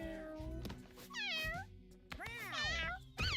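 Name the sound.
cat meowing in a video game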